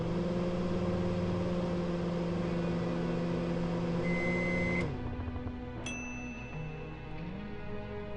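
A microwave oven in the video game Thimbleweed Park hums with a steady tonal drone that cuts off partway through, followed by a couple of short beeps and a quieter residual hum.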